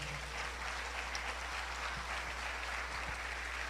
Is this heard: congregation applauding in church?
yes